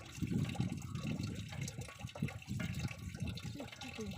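Water from a big windmill pump pours and splashes steadily at a remote outback camp on the Nullarbor, a continuous close trickling gush with no talk over it.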